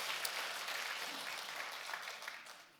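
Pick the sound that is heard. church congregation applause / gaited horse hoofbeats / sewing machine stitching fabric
church congregation applause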